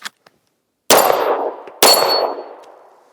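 Two loud, close pistol shots from a P320 X Carry striking a distant steel target, each crack followed by a ringing metallic decay, spaced about a second apart after a couple of faint clicks.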